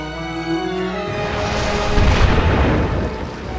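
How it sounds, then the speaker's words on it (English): Cannon fire explodes with deep, rumbling booms in the video game Final Fantasy Brave Exvius, a loud burst swelling after a second over sustained music and fading gradually. "Cannon fire! Incoming!"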